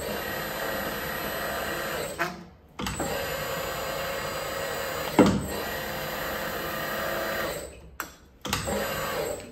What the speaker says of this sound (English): So by putting it through the machine, you can round it straight away.